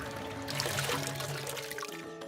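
A small flowing river runs in a steady, continuous trickle and pour of water, close and moderately quiet, with no voices.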